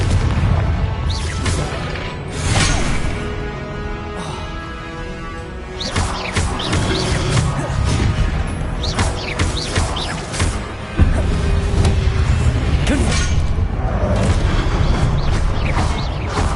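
Confringo explosion spell from Hogwarts Legacy, with repeated sharp magical blasts and booms over a busy game soundscape, ending in a louder burst followed by sustained rumbling.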